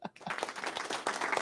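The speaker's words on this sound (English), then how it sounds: "Round of applause for my spreadsheet capabilities." A short burst of canned applause played from a soundboard during a live call-in show: dense clapping that starts abruptly, dips briefly in the middle and carries on at a moderate level.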